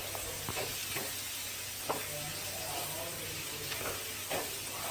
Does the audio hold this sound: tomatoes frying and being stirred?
yes